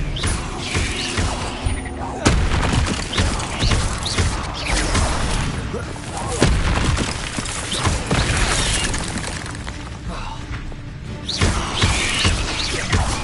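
Expelliarmus spells cast in the Hogwarts Legacy video game: repeated sharp magical bursts and crashing impacts over continuous game noise, with a voice shouting between them.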